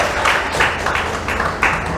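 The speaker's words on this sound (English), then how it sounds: "Let's give it a round of applause for the Greasy Spoon today" Clapping at the Greasy Spoon restaurant in Pearland, a short, thin round of applause with a few hands beating in quick bursts, close by and brief.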